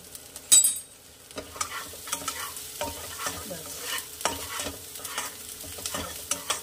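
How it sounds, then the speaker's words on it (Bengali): Spices with red chilli powder fry on a very low gas flame for paneer butter masala. A soft sizzle sits under frequent close scraping and clinking stirs of a spoon in the pan, with no talking. "একটু ভাজা ভাজা হবে, গ্যাসের ফ্লেম একদম লো করে দিয়েছি।"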